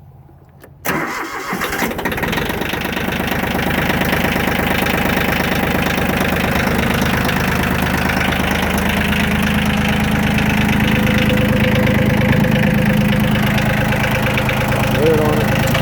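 A used Yanmar F165D compact tractor's diesel engine cranks briefly, catches and settles into a steady, close, clattering idle that runs evenly to the end.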